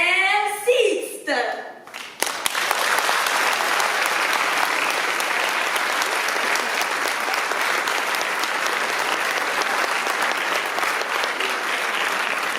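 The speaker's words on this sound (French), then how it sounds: "Un tonnerre d'applaudissements pour Michel Sixte." Concert audience at a CHAM school concert bursting into applause for a performer: after a brief spoken introduction, a dense, sustained wall of clapping runs to the end.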